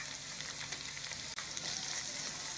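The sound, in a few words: ginger and garlic paste frying with onions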